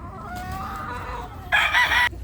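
A rooster crows close by in one strained call that rises and ends abruptly, over a steady background of outdoor noise at a chicken yard.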